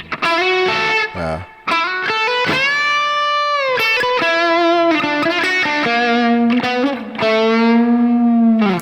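A distorted electric guitar plays a song's solo, a lead line with bent, sustained notes and quick runs, loud and close, with no voices.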